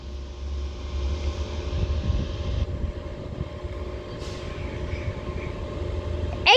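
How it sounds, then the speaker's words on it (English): A double Avanti West Coast class 805 train pulls out of Chester station with a low, steady rumble that builds gradually, heard from the platform with a brief sharper sound at the very end. "which will start here at Chester with a double Avanti West Coast class 805, and she's off now"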